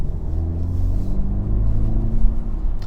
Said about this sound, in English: These Goodyear tires, they don't grip the best, and also they make more road noise.